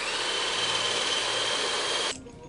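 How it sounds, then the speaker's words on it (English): A steady, high-pitched power drill with a spade bit whines continuously at close range, then cuts off abruptly near the end, leaving quiet room noise. "definitely not an easy thing getting this thing drilled out"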